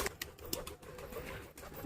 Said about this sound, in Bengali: এখানে পায়রাগুলো সব উড়ে উড়ে আসছে এসে ওরা খাচ্ছে